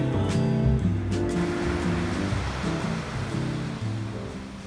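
Ocean surf washing onto a sandy Florida beach, a steady broadband rush that swells and eases, with a low droning hum running underneath.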